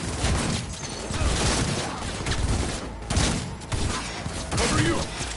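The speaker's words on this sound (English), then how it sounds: "Shot fired!" Cyberpunk 2077 gunfire: a dense, continuous crackle of shots and thuds in a combat scene, loud and close, mixed with speech.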